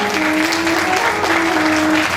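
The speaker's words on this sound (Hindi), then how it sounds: "जोरदार तालियां बजाइए" Loud audience applause fills the hall at a Shrimad Bhagwat katha religious gathering, steady and sustained throughout, with a sustained tonal hum from music or the sound system running beneath the clapping.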